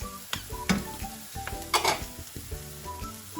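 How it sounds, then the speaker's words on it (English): Onions tossed into a hot pan of frying leftover fried rice, with loud crackling sizzle and repeated scraping stirs and clinks of a spatula against the pan, close up, no talking. "I'm adding the onions to it now."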